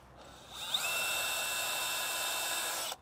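Power drill boring a 7/8 inch hole through a metal electrical box for a half inch Romex connector, a rising whine as the bit bites in, then a steady loud grinding drone held for over two seconds before stopping abruptly, no talking.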